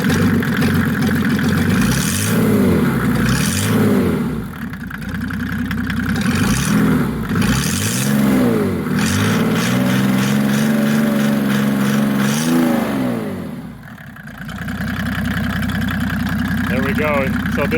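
A Mercedes W210 with an OM606 diesel engine and an 8mm Bosch-type injection pump on the stock ECU and stock turbo, idling and then revving in repeated rising and falling swells, loud and close, with someone talking over it.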